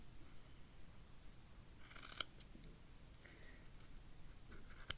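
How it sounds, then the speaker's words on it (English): A few quick, crisp scissor snips trimming yarn cluster together, then a couple more follow, faint and close against a quiet background hiss. "take those scissors and just trim"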